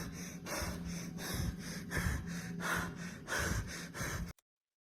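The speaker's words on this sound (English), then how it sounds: "I feel like it's a lot of heavy, heavy, heavy breathing." Heavy, rhythmic breathing from a ghost video comes close and loud, with about eight rasping breaths in steady succession before an abrupt cut to silence.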